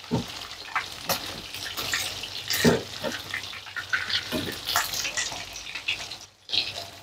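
Milkfish pieces, heads already removed, frying in hot oil for a green-chili sambal dish, giving a steady broadband sizzle and crackle with brief bursts of louder spattering and one short drop-out near the end.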